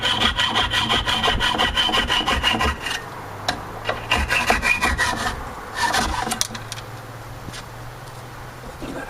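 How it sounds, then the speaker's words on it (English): A hacksaw cuts through a nail in a wooden deck rail in quick rhythmic strokes, with brief pauses between bursts, close and fairly loud. "I'm going to use the hacksaw."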